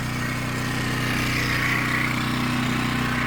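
A Harbor Freight Predator gasoline generator runs close by, its small engine droning steadily at an even speed with a rough mechanical buzz throughout, loud and without any speech.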